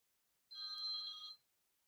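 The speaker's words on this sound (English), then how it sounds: "That's my phone ringing." A telephone bell rings once in a single steady burst of just under a second, clear and fairly close, with no talk around it.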